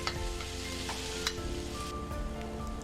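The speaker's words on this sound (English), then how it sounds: "Saute garlic for 30 seconds." Garlic sautéing in oil in a wok, a steady close sizzle with light scraping strokes now and then and a faint tonal hum underneath, continuous throughout.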